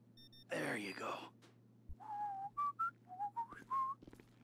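Michael whistles a melodic tune in Grand Theft Auto V, a run of short rising and falling notes heard clearly, just after a brief burst of noisy sound.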